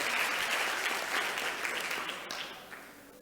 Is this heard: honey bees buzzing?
no